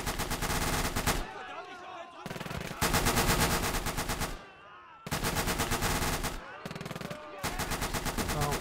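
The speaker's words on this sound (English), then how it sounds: "where the hell is that AMG fire coming from?" Sustained automatic machine gun fire in a WWII trench battle video game set during Operation Tonga, loud bursts repeating in long runs with brief gaps between them, layered with battlefield noise.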